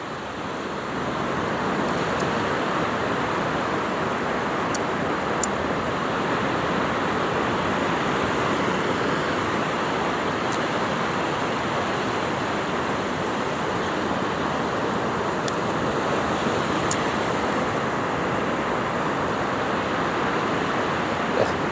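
Ocean waves surging and breaking over a shallow sandbank, a steady, loud wash of surf that fills the whole stretch with continuous roaring water and no pauses.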